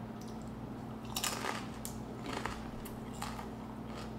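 Crunchy bites into a snack flavored with roasted garlic, sea salt and spicy pickled de gallo, with several crisp bursts spread across the stretch over a steady low hum, close and moderately loud.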